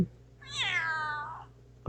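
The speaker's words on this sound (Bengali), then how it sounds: "অনেক ধরনের বিড়ালের শব্দ চলে আসছে" A single cat meow sound effect from a free library, one clear drawn-out mew lasting about a second, close and clean against a quiet background.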